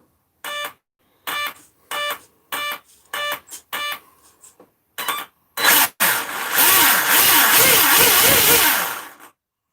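RC model with an electric motor and speed controller, likely on a 4S pack: a run of short electronic beeps from the controller, then the motor spins up to a loud, sustained full-throttle whine for a few seconds before cutting off.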